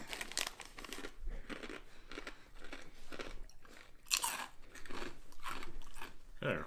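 Onion-flavored Bissli wheat snacks crunched up close, a run of loud brittle bites and grinding chews that repeats in irregular bursts over several seconds.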